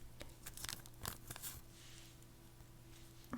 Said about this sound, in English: this one gets a very big plastic bag. Let us get that out